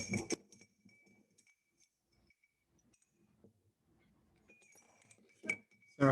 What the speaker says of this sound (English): we just kind of drop it in the vinegar and we see if it fizzes